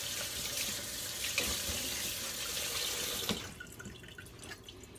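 Tap water runs steadily into a sink while produce with its stems still on is rinsed. The flow cuts off after about three seconds, leaving a few faint drips.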